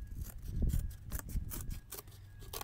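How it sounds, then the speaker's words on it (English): Scissors cutting a piece of cardboard to fit inside a plate, a run of close, crisp snipping crunches in an uneven rhythm, each cut a short scratchy burst, with no talking. "You're going to cut the piece of cardboard so it will fit inside of your plate."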